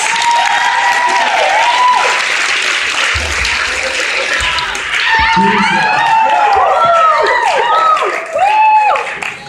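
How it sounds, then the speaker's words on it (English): A big, loud round of applause fills a Mr. RIT pageant hall, with dense continuous clapping and whoops and cheers rising over it throughout. "Let's give them a big round of applause."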